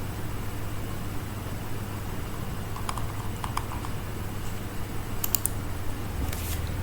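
Keys tapped on a computer keyboard while a networking command is entered on a Windows system, a few soft, scattered clicks in short bursts over a steady low hum, no voices.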